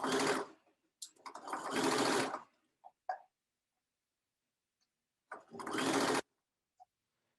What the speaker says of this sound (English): I'm gonna put my needle down first, right in that crease. And then we can stitch along that crease line.